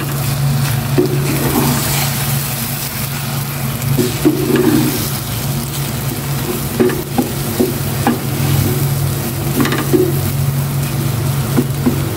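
Egg frying in a pan, steady close sizzle throughout with occasional light clinks and scrapes of stirring.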